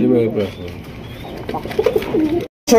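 Soft, low throaty cooing from a male Raj Gola pigeon kept on a pigeon farm, a few rolling coos close by, ending with a brief rustle.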